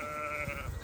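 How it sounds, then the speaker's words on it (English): Sheep bleat faintly in the distance on a farm, a brief wavering call over a steady hum of background noise. "Sheep, sheep, sheep, sheep, sheep, sheep."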